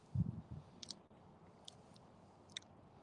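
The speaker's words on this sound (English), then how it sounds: "If I'm chewing too loud, just let me know." Someone chews a jalapeno bagel up close, a few soft moist bites and crunches at the start followed by faint clicks and mouth sounds, quiet with no talk.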